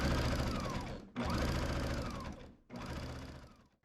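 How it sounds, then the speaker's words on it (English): Baby Lock Jazz II sewing machine top stitching along the binding edge of a quilt, with close, steady rapid mechanical whirring in two runs broken by a brief pause. "I'll top stitch right along the outside edge of the binding"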